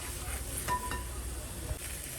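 A spatula stirring and sautéing in a pan while making Afghan egg kuruma, with soft scraping and light sizzling at low volume and an occasional faint clink of metal.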